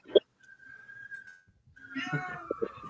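A house cat meows indoors, a drawn-out tonal cry followed later by more meowing as people talk over it in a casual conversation.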